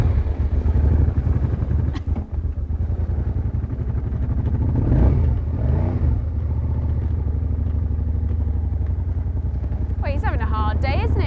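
A Suzuki SV motorcycle engine revving and pulling away, loud at first with rising and falling revs, then fading into the distance as background sounds continue, with a brief voice near the end.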